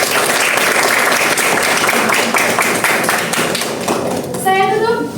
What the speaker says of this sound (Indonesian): Berikan tepuk tangan yang meriah untuk calon ketua dan wakil ketua kelas 11L